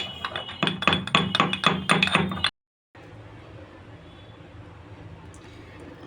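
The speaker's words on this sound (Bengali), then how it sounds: "এলাচটা আমি এখন গুঁড়ো করে নিচ্ছি।" Cardamom pods being crushed for rosogolla payesh with a steady run of sharp rhythmic pounding taps, then an abrupt stop and quiet kitchen background.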